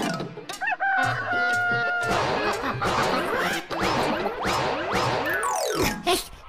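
Chickens cluck and a rooster crows in a busy, crowded run, loud overlapping calls with sudden clattering crashes mixed in.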